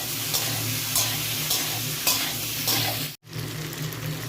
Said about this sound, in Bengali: টমেটোগুলোকে দিয়ে একটু ভালো করে ভেজে নেব।